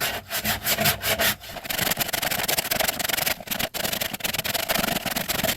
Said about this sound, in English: You want to sand down the edges over here.